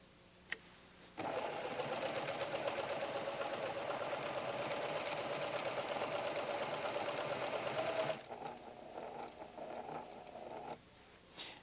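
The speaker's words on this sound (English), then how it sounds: "Now I'll sew the original stitch right next to the new stitch." A PFAFF creative 7550 sewing machine stitches in a steady, fast mechanical whir for about seven seconds, stopping and then running briefly at a softer level, with no talking.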